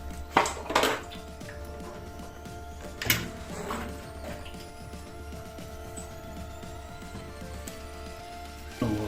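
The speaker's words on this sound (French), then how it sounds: "On va enlever la vis de l'axe" A screw is worked out of the fuel tank axle on a Yamaha FZS600 motorcycle, with a few sharp metallic clinks and taps separated by long stretches of quiet, faint mechanical ticking.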